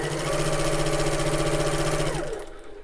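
A sewing machine runs a fast, steady back stitch up close, its motor buzzing loudly before winding down and stopping near the end.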